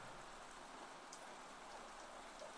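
Steady rain falling in a continuous soft hiss with faint scattered drips, heard alone at low level with no voices.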